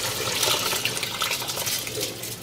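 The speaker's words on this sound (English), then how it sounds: "And that's the amount of water that you add to the rice." Water is poured into a bowl of rice while cooking a Surinamese dish, making a continuous close, splashy pouring rush that lasts the whole moment.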